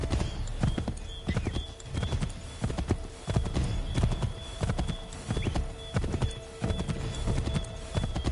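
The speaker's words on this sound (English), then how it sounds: "Get back on the horse, Connor!" Rhythmic clip-clop of a horse galloping in Assassin's Creed III Remastered, hooves pounding in a quick steady beat, with faint tonal game sounds and an occasional whinny.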